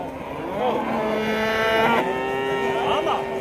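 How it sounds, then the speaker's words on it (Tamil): Buffalo calves at a cattle market low loudly and near at hand, with overlapping drawn-out moos running continuously through the clip. "எருமை இருக்குது, இதெல்லாம் வளர்ப்பு கன்றுகள் தான் இதெல்லாமே"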